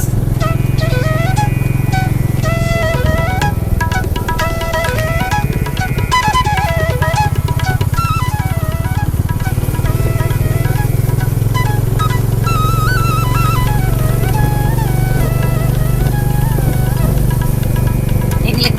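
A motorcycle engine drones loudly and continuously up close, its pitch wavering as it labors climbing the Tirumala hill road, with music playing over it.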